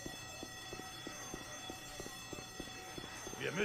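An alarm ringing in the video game Left 4 Dead 2, a steady sustained tone with evenly spaced rattling clanks beneath it, fairly faint, swelling into a louder burst at the end.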